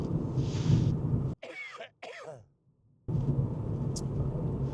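A couple of sharp, close coughs break through, followed by a short silence, with muffled noise before and after.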